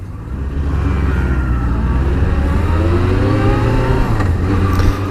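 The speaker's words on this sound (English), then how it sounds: "Kamikaze scooterist next to me." In traffic on the southern coast of Gran Canaria, a scooter rides close alongside a motorcycle, its engine buzzing and rising over the bike's loud steady engine drone and wind rush throughout.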